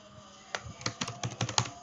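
Typing on a computer keyboard, a quick run of about ten sharp key clicks in an uneven rhythm, close and moderately loud against a quiet room, with no voices.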